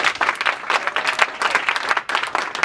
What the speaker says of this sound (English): I want you to give a round of applause to Husan Thompson.